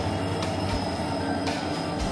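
A Lachit Express passenger train with ICF coaches, travelling from Murkongselek to Guwahati, rolls past steadily with a continuous rumble and rattling wheels, a faint metallic squeal and a few rhythmic clacks, loud and unbroken.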